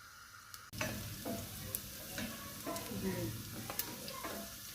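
Finely chopped onion and garlic sizzle in a pan as dal is being prepared. After a sharp start there is a steady frying hiss, broken by repeated stirring scrapes and clicks close at hand, with no talking.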